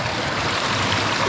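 River water rushing through a washed-out beaver dam, a steady close broadband flow with gurgling texture that holds throughout without pause.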